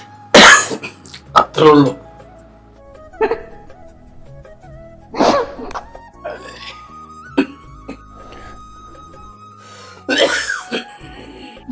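A man coughs and clears his throat in several loud, close bursts amid short stretches of speech, with a low steady hum running underneath.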